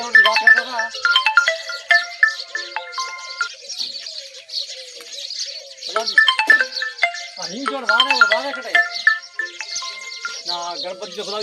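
A mobile phone ringtone plays a bright, repeating electronic melody throughout, loud and close, with a voice joining briefly near the end in a Gujarati comedy sketch.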